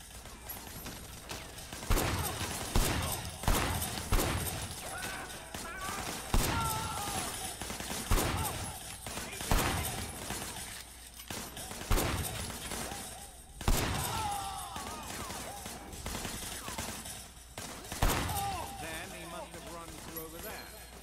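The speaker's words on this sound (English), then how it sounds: "There was a shooter. Firing shots from the passenger window" Gunshots fired from a van's passenger window in the video game Sleeping Dogs, a regular series of loud cracking shots spaced a couple of seconds apart over dense engine and street noise, with voices speaking throughout.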